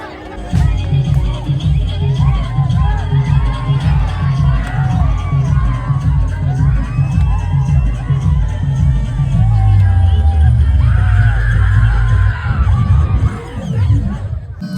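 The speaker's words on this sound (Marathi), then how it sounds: "फुल पब्लिकचा जल्लोष" A loud, dense crowd roars and cheers continuously at a Dahi Handi festival, with shouting voices and heavy low rumble filling the whole stretch.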